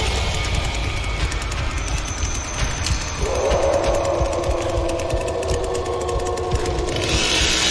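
A video game chainsaw runs without stopping in a loud, steady mechanical buzz whose pitch climbs partway through, with rattling game noise mixed in and no talk.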